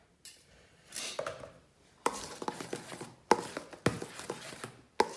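A spoon clinks and taps against dishes and bowls while tiramisu is assembled in a kitchen, several sharp metallic clinks in irregular bursts separated by short pauses, close and clear.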